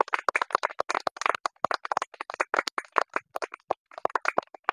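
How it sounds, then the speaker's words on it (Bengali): A small group claps for the winner of a contest to eat six bananas in two minutes, the dry, uneven handclaps close and continuous with no voices over them. "সবাইকে তো হাততালি।"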